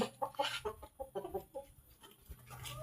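Hen clucking close by, a quick run of short, soft clucks that thins out toward the end, with no talk.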